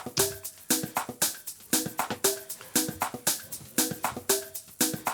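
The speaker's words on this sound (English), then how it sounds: "so you can clearly hear this reverb adds a lot of this room sound." A drum groove repeats in a steady pattern, kicks and snares ringing out with a roomy, reverberant tail that fills the space between hits.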